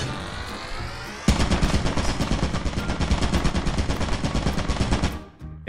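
A video game turret mounted overhead opens up in a long, rapid, steady burst of automatic fire, loud and close, drowning out a quieter tonal sound before it and cutting off near the end.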